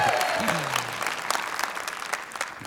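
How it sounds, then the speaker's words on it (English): An audience at a lieutenant governor candidate debate breaks into sustained clapping that fades slowly, while someone speaks briefly over it. "I can't believe you clapped at that"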